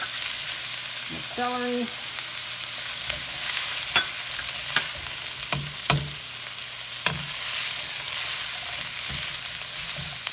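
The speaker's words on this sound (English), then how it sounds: "You can see the carrots are getting brighter as they start to cook" Chicken stir fry vegetables, including carrots, green beans, spicy peppers and celery, sizzle steadily in a hot pan, with a brief spoken word early on and occasional sharp clinks of a utensil stirring.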